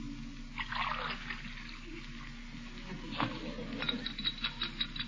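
Water is poured into a glass and stirred in an old 1947 radio comedy, a soft splashing trickle followed by quick light clinks and taps of a spoon against the glass, with no voices.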